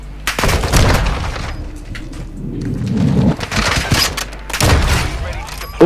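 Sniper gunshots in a first-person shooter video game ring out as several loud, booming cracks with echoing tails, spaced irregularly, while voices talk over them.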